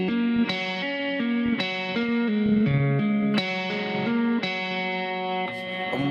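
A distorted electric guitar plays a riff slowly, picking clear repeated notes with chorus-like effects and reverb, loud and up close with no voices.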